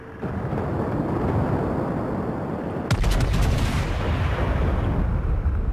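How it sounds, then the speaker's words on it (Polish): A naval gun salvo from the battleship New York in World of Warships, a single loud booming blast midway through that rolls into a long, heavy rumble over a constant low background drone, with no talking. "można się przygotować do jakiegoś tutaj strzału ostrzegawczego"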